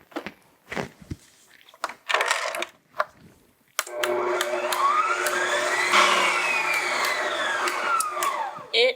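An electric mixer whips a foaming sugar body scrub, starting with a few short scraping knocks and then settling into a steady, close, whining motor hum that rises and falls slightly in pitch.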